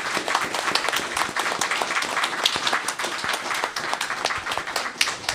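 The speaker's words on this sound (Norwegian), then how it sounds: "Så la oss nå gi deg en skikkelig applaus, Helge, for det du har." An audience at an academic event on sociology and theology applauds after a lecture. The clapping is steady and brisk throughout, with individual sharp claps standing out close by.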